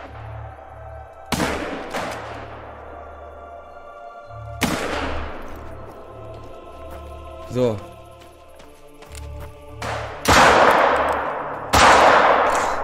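Revolver shots fired at game in theHunter: Call of the Wild, several loud sharp reports spaced seconds apart, the last two close together, over a steady low game hum and brief talk.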